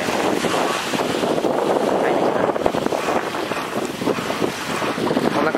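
Strong seaside wind on Sesoko Island, Okinawa, buffets the microphone in a continuous loud roar with gusty swells, nearly drowning out any other sound.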